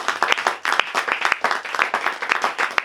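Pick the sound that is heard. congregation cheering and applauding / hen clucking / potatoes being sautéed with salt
congregation cheering and applauding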